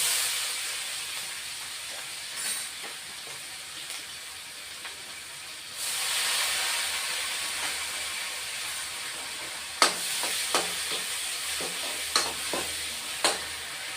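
Onion paste frying in hot oil for a Bengali-style katla fish curry: a steady hiss that swells sharply when the paste hits the pan, followed by a few clinks of a spoon stirring against the pot.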